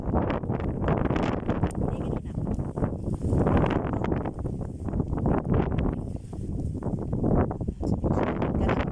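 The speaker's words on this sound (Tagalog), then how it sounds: "Lintik na hangin, bumalik na naman" Strong wind buffets the microphone in continuous low rumbling gusts, with a brief spoken phrase nearly lost beneath it, on a hiking trail in Hong Kong.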